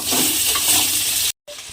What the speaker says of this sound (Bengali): আলুগুলো আমি ওই তেলের মধ্যে দিয়ে আলুগুলোকেও একটু লাল করে ভেজে তুলে নিতে হবে।